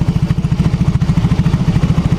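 A Yamaha X-Ride motorcycle with a misfiring exhaust, idling close up with a loud, rapid, uneven low-pitched putter and pulsing throb.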